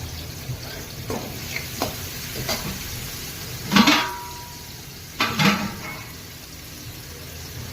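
Onion and tomato being sautéed in a pan: a low, steady sizzle broken by two louder bursts of clattering and scraping as a utensil stirs against the pan.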